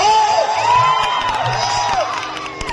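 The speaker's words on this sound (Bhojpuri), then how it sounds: "एक बार जोरदार ताली बजा के आप लोग स्वागत कर दो" Audience at a Bhojpuri stage show in Buxar district cheers, whoops and shouts in a loud, dense crowd roar that carries steadily throughout, with tonal music or voices rising faintly above the noise.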